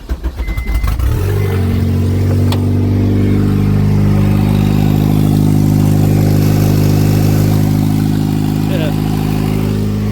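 Turbocharged Honda CR-V with a K24A2 engine cranks and fires, then settles into a loud, steady, close-up idle with a strong low hum running continuously after startup.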